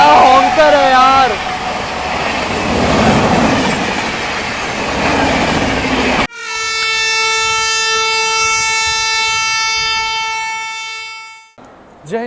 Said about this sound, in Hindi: सामने से आ रही है आप लोगों की हजरत निजामुद्दीन से चलकर विशाखापट्टनम की ओर जाने वाली समता एक्सप्रेस